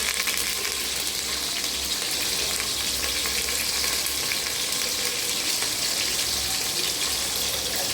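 Small onions with green and dried red chillies sizzle and crackle in a pan, a steady close frying hiss throughout with no talking.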